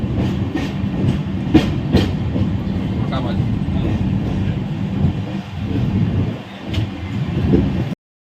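Howrah–Puri Shatabdi Express running in chair car class: a steady low rumble of wheels and carriage with rhythmic clickety-clack over rail joints, plus occasional sharp knocks, continuous and fairly loud, with faint talk in the background.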